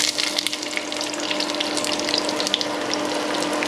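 Onions frying in hot oil in a pan turned down to low heat, a steady dense sizzle and crackle running evenly throughout with no voices.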